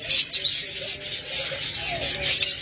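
Pet budgerigars, cockatiels and lovebirds chirp and tweet in rapid, overlapping bursts close by, with a faint voice talking in the background.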